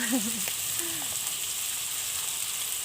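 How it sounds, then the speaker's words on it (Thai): Small fish frying in hot oil give a steady, faint sizzle and crackle with no strong bursts, while a voice briefly murmurs at the start. "ทอดปลาเด็ก"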